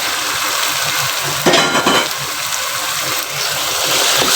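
A kilo of mutton liver (kaleji) fries in a pan, giving a loud, steady sizzle with bursts of stirring and scraping against the metal, close up and without talk.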